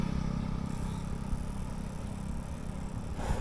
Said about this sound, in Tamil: ஒரு பைக்கு போணுச்சு, அதோட நாய்ஸ்லாம் எப்படி கேப்சர் பண்ணுதுன்னு பாருங்கள்